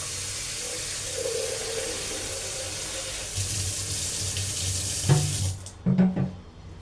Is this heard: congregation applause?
no